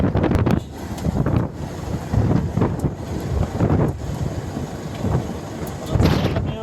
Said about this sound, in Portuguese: Olha a força do vento no mar.